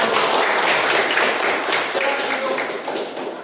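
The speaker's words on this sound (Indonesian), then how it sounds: "kita beri tepuk tangan semuanya" Audience clapping in a classroom teaching session, dense applause with a voice talking over it, fading slightly toward the end.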